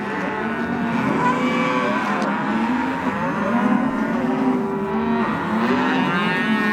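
Cattle mooing on a ranch in wolf country, several overlapping drawn-out bellows from a herd, loud and close, continuing steadily throughout with no speech.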